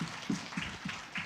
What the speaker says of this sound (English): Now, give applause.